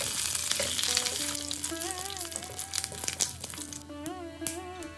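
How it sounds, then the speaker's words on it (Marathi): Mustard seeds, cumin, curry leaves and peanuts frying in hot ghee give a close crackling sizzle, while a wavering melodic tone, likely background music, plays over it. "तूप गरम झालं की त्यामध्ये अर्धा टीस्पून राई एक टीस्पून जिरं थोडासा कढीपत्ता व पाव वाटी शेंगदाणे घाला हे सर्व पदार्थ तुपामध्ये परतून घ्या"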